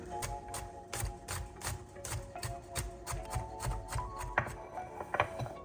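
Garlic cloves smashed open on a board for peeling, as prep for steak and potato foil packs: a run of sharp, close knocks and taps in an uneven rhythm, loud against a quiet kitchen.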